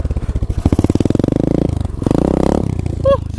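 An SSR 125 motorcycle engine runs while being ridden, a loud close buzzing drone that pulses with throttle changes, rising and dipping over a few seconds, with a short squeal near the end.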